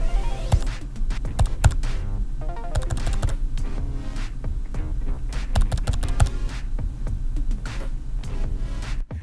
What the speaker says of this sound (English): I'm going to put my microphone down by the keyboard so you guys can hear when I press the navigation keys